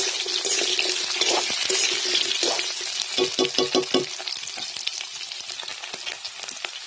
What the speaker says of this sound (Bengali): এবার আলুগুলো দেবো, আলুগুলো দিয়ে ভালো করে ভেজে নেব লাল লাল করে।